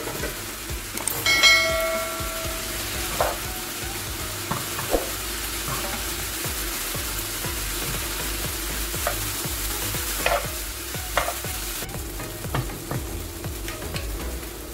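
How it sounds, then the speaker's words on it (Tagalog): Boiled Lucky Me pancit canton noodles, seasoned with a little Magic Sarap, are stir-fried in a pan with a steady close sizzle and repeated stirring scrapes. A metallic clink rings out near the start. "ilalagay na natin ang pinakulo natin na pansit canton"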